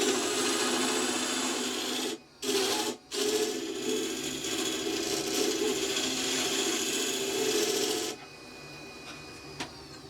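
A wooden ring spins on a lathe as the cutting tool sizes it, giving a steady scraping rasp that drops out twice in brief lifts, then continues more quietly with a faint whine near the end.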